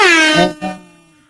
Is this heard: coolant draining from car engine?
no